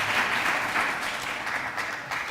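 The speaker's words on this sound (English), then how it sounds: "Can we just give them a round of applause," A university hall audience at a senatorial debate claps in a steady, full round of applause that stays at an even, moderate level for a couple of seconds.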